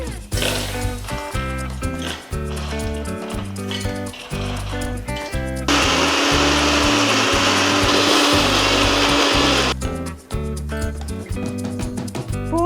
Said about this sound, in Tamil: இந்த பூண்டை மிக்ஸி ஜாரில் போட்டு 1-2 அரைச்சி எடுத்துக்கலாம்.